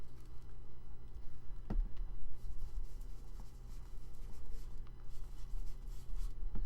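Marker or pencil coloring strokes rubbing across a paper envelope inside a handmade journal, a steady close scratchy texture with a few sharper taps, no talking.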